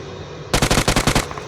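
A rapid burst of automatic gunfire in a shooting video game, about eight sharp, evenly spaced shots fired in quick succession, loud and close, following a brief quiet moment.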